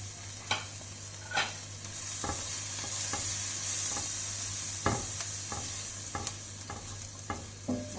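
Vegetables including carrot and capsicum sauté in butter for white sauce pasta, a soft continuous sizzle with a spatula tapping and scraping the pan every second or so, close and alone.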